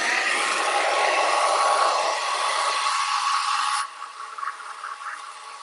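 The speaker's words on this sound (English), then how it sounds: "This blow dryer." A blow dryer runs loud and steady to heat-seal something, a broad whooshing roar that drops abruptly to a lower, quieter setting near the end.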